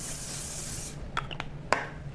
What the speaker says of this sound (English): I like to spray it down with some oil.